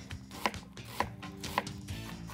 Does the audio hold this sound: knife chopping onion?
yes